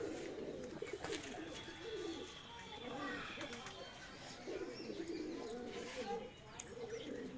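Pigeons in a loft coo in low overlapping rumbles amid a busy background of chirps, distant voices and clatter, with people talking nearby.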